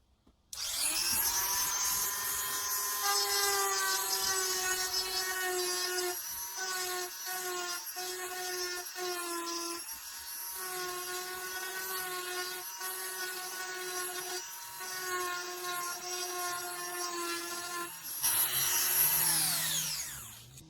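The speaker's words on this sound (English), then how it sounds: "these little tiny carving tips, and what that does is literally just carves lettering, pictures, numbers, anything like that into wood" A rotary tool with a small carving tip cuts into wood, giving a steady, high-pitched whine for about twenty seconds. The tone shifts slightly and dips briefly as the tip bites and lifts. No voices.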